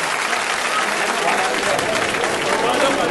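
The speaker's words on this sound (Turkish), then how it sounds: "Sayın sponsorlarımıza bir alkış istiyoruz sizlerden." A crowd at a traditional village unity night claps steadily for the sponsors, a dense, even wash of applause holding at the same level throughout, with faint voices mixed in.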